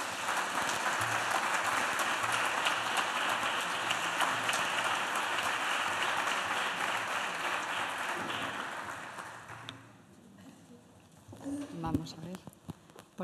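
A loud audience ovation for the president of the Extremadura Oncological Association rings out at a breast cancer awareness day event, a thick wash of clapping that fades out around ten seconds, followed by brief microphone handling and a voice.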